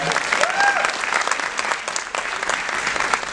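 A live comedy show audience claps in steady, dense applause that fills the whole stretch, with a voice faintly audible through it.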